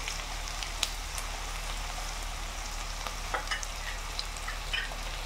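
Onion and curry leaves fry in oil for soya chunks masala, a continuous close crackling sizzle with scattered sharper pops and no talk.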